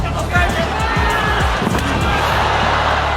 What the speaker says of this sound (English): the sound of slamming shins became unbearable